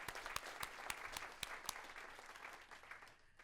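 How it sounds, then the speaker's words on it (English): A conference breakout audience bursts into steady applause with a few sharp, prominent claps standing out. The sound is fairly distant and quiet and fades gradually near the end. "So I'm hoping you can all join me in a round of applause."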